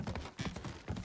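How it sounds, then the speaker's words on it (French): A horse's hooves clip-clop steadily in the video game Ghost of Tsushima, a quick, even rhythm of close, muffled thuds at a moderate gallop. "Avance, mon little cheval."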